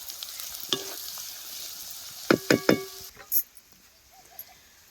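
Pieces of bajra bhakri browning in a pan, with a short burst of several close spatula scrapes and stirring knocks over a soft background sizzle, then quiet.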